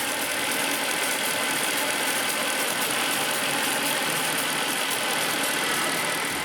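A Mercedes C63 AMG runs steadily after a power steering fluid spill, with a squishy noise from the belt area. A constant hissy drone sounds up close, with no talk.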